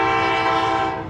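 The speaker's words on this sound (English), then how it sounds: "4 Norfolk Southern engines are pulling a load of mixed freight" A loud, steady train horn blares close by at a railroad crossing as four Norfolk Southern locomotives pull mixed freight, a rich sustained chord with rumbling underneath.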